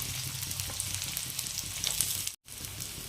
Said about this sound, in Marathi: लसूण थोडासा तळला की त्यामध्ये हा कांदा टाकून घ्यायचा.